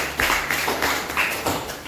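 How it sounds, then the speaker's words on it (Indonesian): A short burst of clapping from a group, a few uneven claps and taps over under two seconds. "Oke, tepuk tangan."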